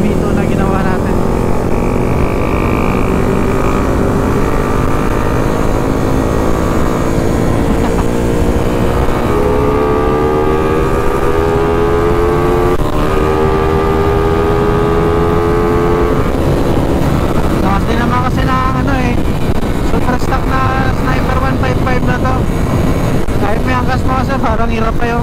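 A Raider FI motorcycle fitted with a tuned Sniper 155 engine with VVA deleted roars on a test run, a loud continuous drone that rises and falls in pitch as it revs, close throughout.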